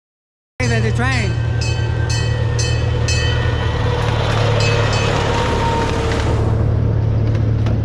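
A zoo train passing close by, a loud, steady rumbling roll with bright metallic ringing and squealing tones, continuing without a break after starting abruptly.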